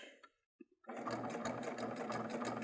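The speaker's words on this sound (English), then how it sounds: "And you can see I'm just stitching, and I'm stitching and keeping that guiding." A Baby Lock Triumph serger stitches and trims fabric, starting after a few faint clicks and then running as a fast, even, rattling hum close by and without pause.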